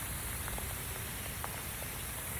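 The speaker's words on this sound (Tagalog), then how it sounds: "umuulan na yan ha. Kanina pa umuulan." Steady hiss of rain with a few faint drops pattering nearby, continuous and even throughout, in Abqaiq.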